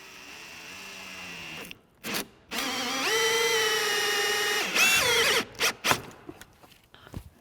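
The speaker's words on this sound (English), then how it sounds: "we'll go ahead and drill a hole in the dash" A power drill with a hole saw whines steadily for a couple of seconds, then squeals and cuts out in short bursts as it bites through a Polaris RZR RS1 dash close by.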